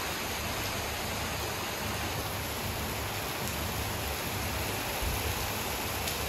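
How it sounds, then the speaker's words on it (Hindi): Heavy rain pours down steadily, a dense, even roar that stays loud and unbroken throughout with no voices. "अभी ये देखो कितनी तेज़ बारिश हो रही है,"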